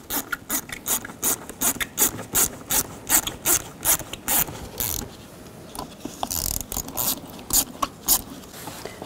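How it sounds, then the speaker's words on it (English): Worm-drive hose clamps on the air intake of a 2010-16 Buick LaCrosse being loosened with a 7 mm socket on a ratchet, a rapid series of close, sharp ratchet clicks in bursts with brief pauses. "Now loosen up these worm clamps. Use a 7 millimeter socket or a straight blade screwdriver."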